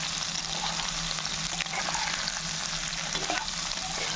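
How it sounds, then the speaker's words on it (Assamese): Small potatoes fry and get stirred in a wok, a steady close-up sizzle with occasional scraping strokes running throughout, no voices. "কেৰাহীত দিয়াৰ পিছত মই আকৌ এবাৰ লৰাই দিছোঁ।"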